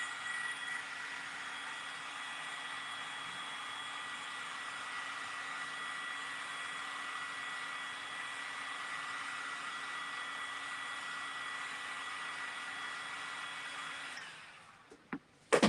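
A hair dryer blows steadily to dry red paint on an eagle plaque, a constant close whooshing hum lasting about fourteen seconds before it cuts off with a couple of clicks.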